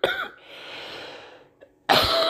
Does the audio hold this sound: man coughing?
yes